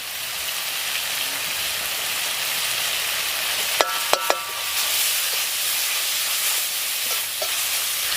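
Tomato, ginger and garlic cooking in a pan for a rabbit curry, giving a steady close sizzle and fry with a few sharp clinks of a spoon against the pan partway through.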